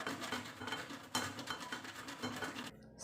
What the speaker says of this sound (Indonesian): Nah, kita parut ya.